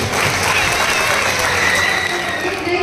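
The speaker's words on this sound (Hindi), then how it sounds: "एक बार जोरदार तालियां बजाइए" Loud, sustained applause from a large crowd at a community gathering in a function hall in Korutla, a dense continuous wash of clapping with no pauses.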